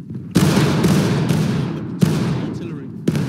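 Musket volleys ring out on a War of Rights line-battle field, several loud cracking rounds hitting at once near the start, again around the middle and near the end, each trailing off into a smoky rumble.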